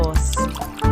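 A cartoonish liquid glug of soy sauce pouring in a Timpy cooking video game, a brief bubbly gurgle layered with chiming game music, loud and close, lasting about a second.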